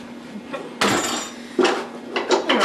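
Metal utensil clanking and scraping against a wok while red and yellow peppers are stirred, a few sharp irregular knocks with short gaps between.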